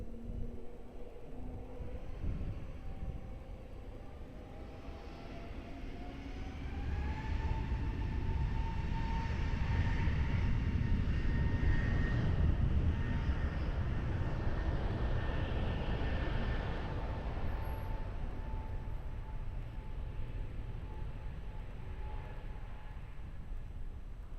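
An airliner takes off from runway 20 at Lisbon Airport, a broad engine roar that builds and swells mid-way with rising whine tones, then slowly eases as the aircraft climbs away.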